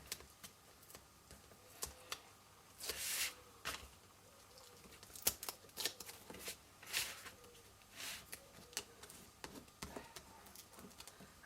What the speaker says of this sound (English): Might as well peel all of them off.